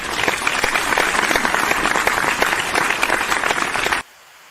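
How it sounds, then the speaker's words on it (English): A crowd claps in a dense, even round of applause at a live post-game football show, loud and sustained before cutting off abruptly near the end. "Give the man a round of applause"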